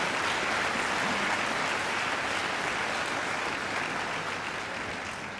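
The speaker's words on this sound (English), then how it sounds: "She deserves another great round of applause." At a university graduation ceremony, an audience applauds singer Angela with dense, steady clapping that fills the room evenly and fades slightly at the close, no talk over it.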